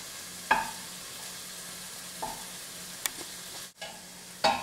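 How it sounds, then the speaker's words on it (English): Ground beef cooking in a pan for a Carne MexiCali dish while being chopped into bite-sized pieces, with a soft steady sizzle underneath and a few sharp scraping knocks of the utensil against the pan. "now I've cooked this for about 2 minutes, and I'm just chopping this up into bite-sized pieces"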